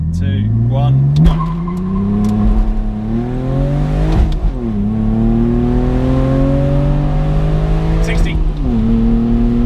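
A Porsche Boxster S or BMW Z4 sports car launching hard: a loud engine climbing in pitch through several gear changes, each marked by a brief dip before it rises again, close and continuous.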